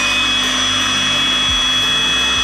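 A 518-watt electric blower runs off a portable power station inside a mini camper van, a loud, steady whirring roar with a high motor whine, continuous and close throughout.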